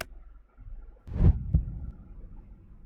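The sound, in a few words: heartbeat or footfalls in video game A Date With Death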